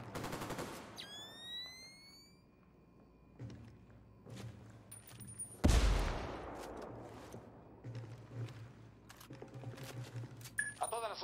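Gunfire in Ghost Recon Wildlands, scattered shots and short bursts with one loud close blast midway, set among quieter in-game ambience and mechanical noises.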